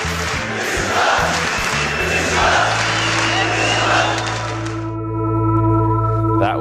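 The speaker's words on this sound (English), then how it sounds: "watching Thaldron in front of the crowd, them cheering at his cue" Crowd at a Turkish esports event during a Fnatic versus Beşiktaş match, a dense roar of cheering and shouting that fills the first five seconds, then cuts out, leaving steady humming tones and faint background noise.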